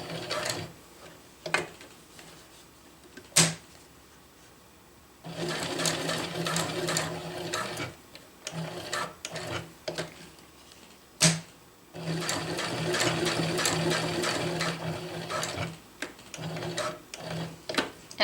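A sewing machine runs in bursts while box-stitching a water bottle carrier, with loud, rapid mechanical stitching separated by pauses and a few sharp clicks and handling knocks.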